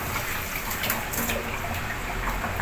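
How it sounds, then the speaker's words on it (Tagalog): Aloe vera going into water at home gives a steady, close trickling and gushing water sound that continues without pause and with no talking. "Tapos, ilalagay sa tubig."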